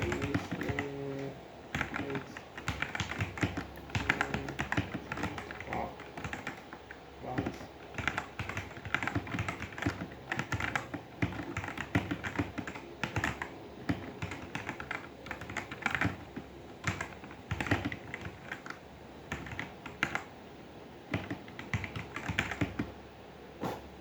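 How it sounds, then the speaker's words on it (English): Continuous clacking of a Machenike K500A-B84 mechanical keyboard during a typing test, rapid steady keystrokes close up for the whole stretch, with faint talk now and then in the background. "I'll be doing a typing test with it."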